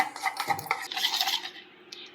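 A spoon scrapes and clinks against a metal pot while stirring thick sweet paniyaram batter mixed with boiled water, close and continuous, then fades out without any voices.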